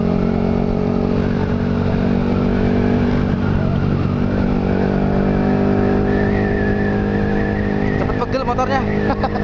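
A Yamaha R15 motorcycle engine drones loudly and steadily with rising revs, close by amid wind and road noise, and a voice is heard over it.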